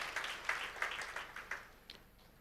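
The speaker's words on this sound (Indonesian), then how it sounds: "Kita beri tepuk tangan dulu buat Tuhan kita yang baik." Scattered clapping from a church congregation during a sermon, a few distinct claps rising and then fading out into quiet within a couple of seconds.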